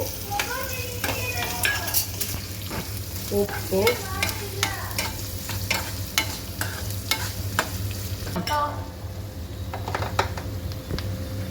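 Onions sauté with salt in a pan for a chickpea sambar, as a ladle scrapes and taps repeatedly against the metal over a steady close sizzle.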